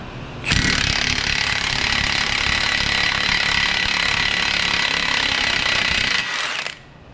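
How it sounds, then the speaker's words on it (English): An impact power tool works the 30mm CV axle nut on a Lexus RX350, a loud, continuous rattling hammer that lasts about six seconds and then cuts off, close with no talk. "Next, we're going to remove the CV axle nut."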